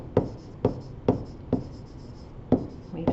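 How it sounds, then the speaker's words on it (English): Pen strokes on paper while writing out interval notation by hand, five or six short distinct scratches at an uneven pace, close and clear, with no talking. "we're going to write it in interval notation"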